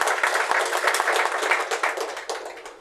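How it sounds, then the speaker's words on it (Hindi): Audience at a political party meeting clapping loudly and densely, a sustained burst of applause close by with no talk. "मैं चाहूँगा उनके लिए आप लोग तालियां बजाने का काम करें"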